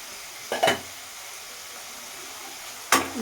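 Stirring white mustard paste frying in a pan: a steady soft sizzle with two brief scraping strokes of a spoon against the pan, no talking.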